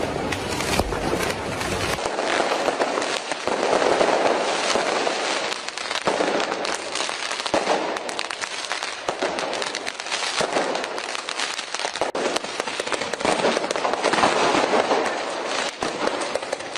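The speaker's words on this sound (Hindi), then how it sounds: "प्रदर्शनकारियों ने जहां पर एथलीट्स रुके हुए हैं वहां पर पटाखे जला दिए और वो भी बड़ी संख्या में।" Large numbers of firecrackers set off by protesters near where athletes are staying, a dense, continuous barrage of sharp crackling bursts, loud and close, with no pause.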